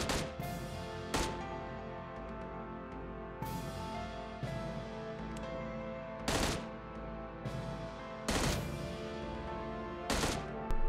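Gunfire in the mobile battle-royale game PUBG Mobile, with a rifle on automatic mode firing short bursts: sharp, loud cracks repeating every second or two over a steady background hum.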